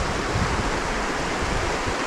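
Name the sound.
river water flowing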